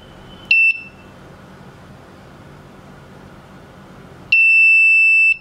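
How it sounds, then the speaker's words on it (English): An ESP32 home automation board beeping as it connects to its server: a short electronic beep, a pause, then a longer steady tone, loud and clear over a quiet room. "As you heard a long beep,"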